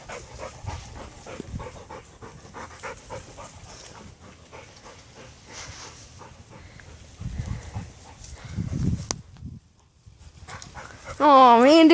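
Several dogs play nearby, panting and scuffling with occasional low thumps while people talk over them, and a sharp high squeak rises at the very end.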